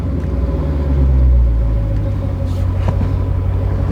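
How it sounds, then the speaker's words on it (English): Ford Mustang GT engine revving in a garage, a steady loud low rumble that swells briefly, with no talk over it. "A few revs."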